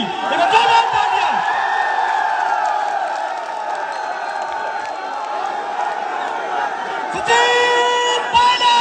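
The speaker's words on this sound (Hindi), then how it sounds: "हमारे जनप्रिय नेता श्रीमान सचिन पायलट जी, जोरदार तालियां" A large crowd cheers and shouts continuously, a loud sustained roar of many voices that swells again near the end.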